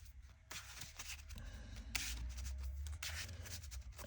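Cards being shuffled close up in a few quick riffling bursts, with soft handling noises between them.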